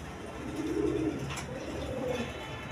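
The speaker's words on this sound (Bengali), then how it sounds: "দর্শকবৃন্দ, এখানে এক পেয়ার মহাসল্লাম কবুতর আছে, রানিং পেয়ার" A pair of Mahasallam pigeons cooing softly, low gentle coos rising twice over a steady background murmur, no voices.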